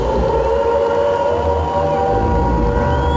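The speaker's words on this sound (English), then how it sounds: "Air raid sirens is always a good way to start." Air raid siren opening a song recording, a loud sustained wailing tone with a slowly shifting pitch over a dense, steady backdrop.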